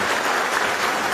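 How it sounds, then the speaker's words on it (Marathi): A crowd at a political rally in Ausa claps in a brief, dense burst of applause. There are no voices over it. "तर ते टाळ्या कशा वाजवायच्या असतात दाखवा बरं जरा"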